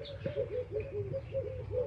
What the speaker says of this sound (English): There's some doves, some frogs, some birds chirping, some cars in the distance.